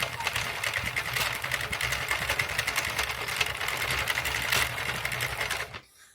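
Steady mechanical whirring and clicking of a Sentro circular knitting machine being cranked by hand, continuous and close for about six seconds before stopping abruptly.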